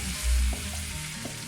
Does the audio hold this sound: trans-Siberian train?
no